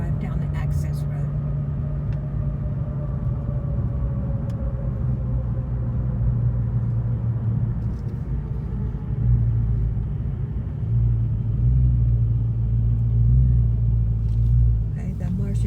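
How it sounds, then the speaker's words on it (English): A car drives along an access road, heard from inside as a steady low rumble of engine and tires that swells slightly at times, with a person talking over it. "I think I'll just drive down the access road."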